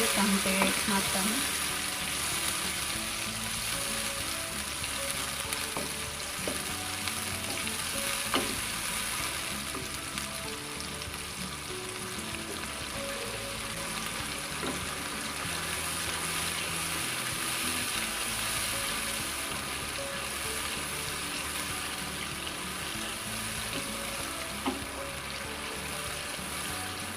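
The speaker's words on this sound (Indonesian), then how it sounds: "Goreng bumbu sampai matang." Ground spice paste fries in oil with wilted onions while fish floss is being made. A continuous hiss and sizzle runs under occasional stirring scrapes, steady and moderately quiet throughout, with no talking.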